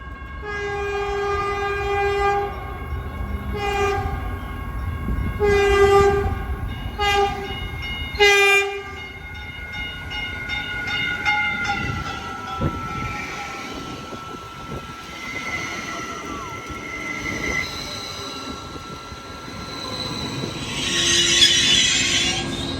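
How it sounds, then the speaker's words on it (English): Southbound local train 6 approaches, sounding several long horn blasts in a row, followed by rumbling wheels, squealing rails and a burst of air hiss near the end, heard from the platform. "our train back home, if you want to call it that, is approaching"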